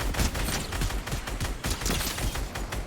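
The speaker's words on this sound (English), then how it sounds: "I'm actually tap firing this weapon, and I'm getting reduced recoil because of that" Twin Mag AR assault rifle in Fortnite being tap fired, a quick series of sharp gunshots in short bursts with brief gaps, loud and close.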